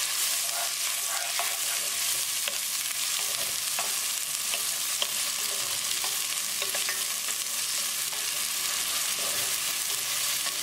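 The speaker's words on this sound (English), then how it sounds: "Keep it moving and keep cooking until onions are nicely translucent." Onions sizzle and fry in a pan with Kashmiri chili while a spoon stirs them, giving a steady close crackle broken by scraping strokes and no talking.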